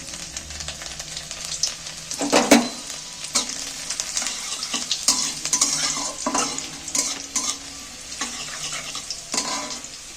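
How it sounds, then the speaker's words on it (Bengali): Chopped garlic hits hot oil in a pan and sizzles steadily, with scraping stir strokes and a few sharper bursts of spatter; no voices. "রসুন কুচানোগুলো তুলে দিচ্ছি তেলের মধ্যে"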